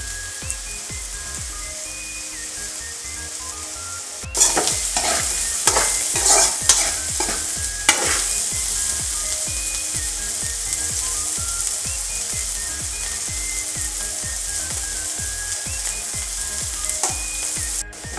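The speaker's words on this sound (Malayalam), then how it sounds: "ഇത് ഇടയ്ക്കിടയ്ക്ക് ഇളക്കി കൊടുത്തുകൊണ്ടിരിക്കണം." Bitter gourd stir-fry (pavakka mezhukkupuratti) cooks in oil in a pan over a low flame. It sizzles steadily, and from the middle onward it is stirred repeatedly, giving close, busy scraping and tossing strokes throughout.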